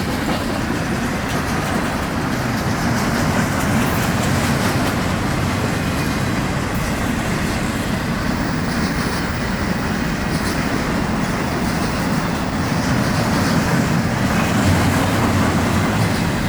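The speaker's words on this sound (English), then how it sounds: "Look at this train, man." A long Florida East Coast Railway freight train rolls past in a long, steady rumble, continuous and fairly loud throughout, with low-end roar and faint rhythmic clatter.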